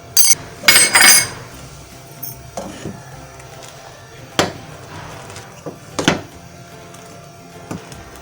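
A metal spoon clinks against a pan as masala is added to tea on an Indian kitchen stove, giving a few sharp near clinks at the start followed by scattered lighter taps amid quiet background noise.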